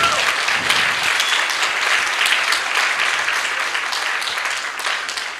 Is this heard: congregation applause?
yes